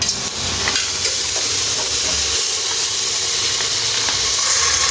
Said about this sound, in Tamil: அதனால நம்ம இப்போ எம்டி பேனில் ஊற்றுறோம்